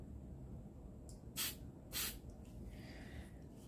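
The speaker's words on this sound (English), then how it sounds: "I'm gonna go ahead and hairspray this off screen" Hairspray sprayed over freshly stamped nail art, heard as two short, close hissing bursts about half a second apart against a quiet background.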